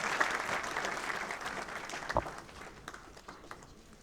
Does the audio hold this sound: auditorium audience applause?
yes